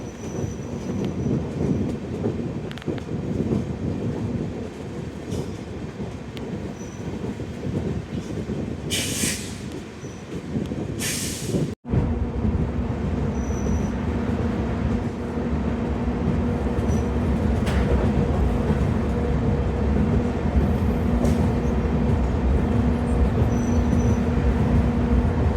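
A train moves through New Haflong railway station in Assam, a steady loud rumble of wheels and carriages with brief squealing bursts and a sharp jolt midway.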